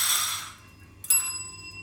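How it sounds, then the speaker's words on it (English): A puppy strikes a small bell, giving a bright ring that decays, then a second sharper ding about a second later that rings on with clear sustained tones in a quiet room. "Ring the bell."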